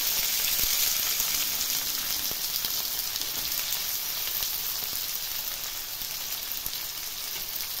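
Chopped onion frying in hot oil with panch phoron spices, a loud, steady, close sizzle with light crackling throughout and no voices.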